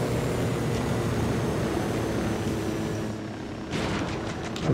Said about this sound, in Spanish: No puedo acercar mucho con el helicóptero, así que voy a tratar de cruzar por ahí.